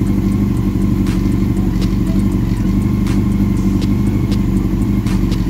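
A Honda CB400 motorcycle engine idles steadily up close, a continuous loud rumble with ticking mechanical clatter and no obvious revving.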